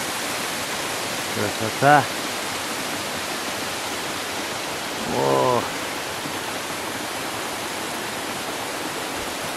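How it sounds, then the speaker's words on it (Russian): Monks' Waterfall inside a cave: a constant broadband rush of falling water fills the space, steady and loud, with a man's brief exclamations heard over it. "монахов водопад, да? Монахов водопад, да."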